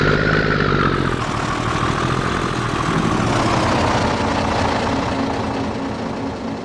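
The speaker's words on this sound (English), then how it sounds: "I forget how loud that truck is there." A haul truck's engine in Farming Simulator 22 drones loudly and steadily at close range, a heavy low idle with a shift in pitch early on, no voices over it.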